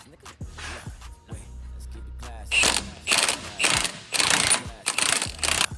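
A torque wrench tightens a bolt and washer on a truck to its maximum setting, giving a run of loud, rapid ratcheting clicks in several bursts after a quieter stretch of handling noise and faint mechanical sounds.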